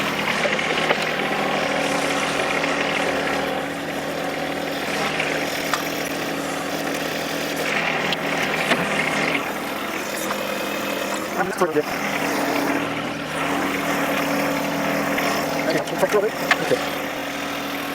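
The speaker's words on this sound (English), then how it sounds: "Oh, I got to reposition the tractor again." A heavy diesel tractor engine idles steadily throughout, a low rumbling drone with occasional clanks, and a voice speaks briefly near the start.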